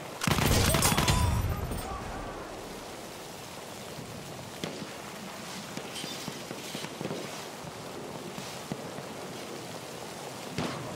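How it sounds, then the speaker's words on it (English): In the Battlefield 1 video game, a loud, rapid burst of machine gun fire erupts near the start and lasts about a second, then gives way to quieter crackling battle ambience and scattered distant shots. "Machine gun, hostile!"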